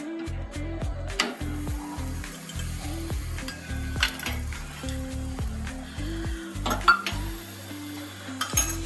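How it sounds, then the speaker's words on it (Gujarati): Jowar, bajra and spinach thepla roast in ghee on a pan, a steady soft sizzle broken by frequent clinks and scrapes of a utensil against the metal, close by, with no talking. "આ આપણે ઘી નાખીને શેકી લઈએ."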